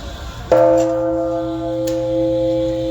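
A wishing bell is struck once at a Buddha's Birthday celebration in an outdoor park, giving a loud clang followed by a long, steady ringing tone that sustains for over two seconds without fading much.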